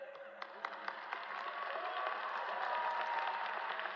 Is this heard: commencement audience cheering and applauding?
yes